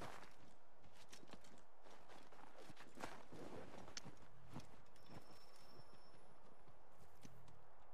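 Horse hooves gallop across snowy ground in Assassin's Creed III, a quick, steady run of soft thuds over constant game ambience, fairly faint and with no talking.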